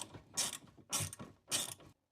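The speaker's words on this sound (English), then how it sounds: "we can take a wrench and tighten down" A wrench ratchets as it tightens down the mount of a cargo basket on an Ineos Grenadier, three quick, close clicking bursts spaced evenly apart with brief pauses between.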